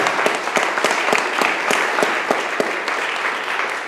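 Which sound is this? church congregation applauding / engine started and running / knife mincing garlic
church congregation applauding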